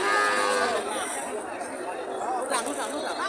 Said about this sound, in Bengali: এদিকে কিছু বাছুর দেখতে পাচ্ছি